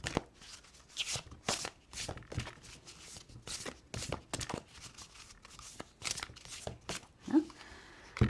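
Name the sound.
oracle cards being spread out on a table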